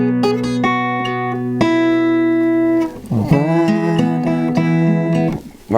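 A fingerpicked acoustic guitar phrase from the Titanic theme rings out with sustained plucked notes, slows into a brief pause, then continues with bending notes.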